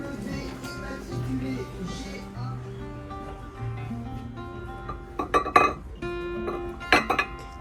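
A few light ceramic clinks and taps of antique plates being handled at an outdoor antique fair, close by, over soft background music.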